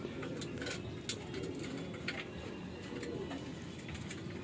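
Racing pigeons, blue bar birds, arriving home from a training flight coo softly and steadily over a low rumbling background, with a few faint chirps and light clinks scattered through.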